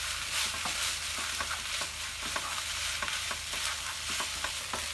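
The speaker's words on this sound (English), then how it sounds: "I'm just going to stir this all together now" Singapore noodles stir-fried in a pan: a continuous close sizzle with rhythmic scraping and tossing strokes of the utensil, roughly one every half second, and no talking.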